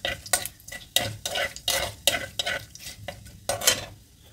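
Black cumin seeds frying in hot oil in a pan for a bottle gourd and prawn dish, stirred with a metal spatula in loud, close scraping strokes about twice a second over a crackling sizzle, without speech.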